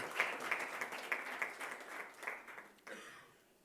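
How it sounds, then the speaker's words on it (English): Modest applause from a panel discussion audience at an education summit, scattered claps building briefly then tapering off into a quiet hall. "Please give a round of applause to Professor Pathak."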